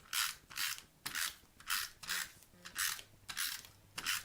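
A snail adhesive tape runner rolls across cardstock in about nine quick, evenly spaced strokes, each a crisp ratcheting zip, close and alone.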